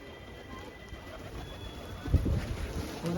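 Pigeons coo softly in low, throaty murmurs, with faint background noise and a few rustles of movement nearby.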